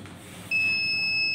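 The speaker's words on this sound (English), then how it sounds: "you'll get a buzzer alert" An electronic buzzer on an IoT medication alert system starts partway in and holds a steady high-pitched tone to the end, clear over a low background hum.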